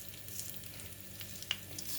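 Mustard seeds sizzling in hot oil, a faint, soft crackle with a few small pops, close and quiet, no voices.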